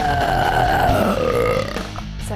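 A single long, loud, drawn-out burp rolls out close up with a falling pitch, fading near the end, with no talking.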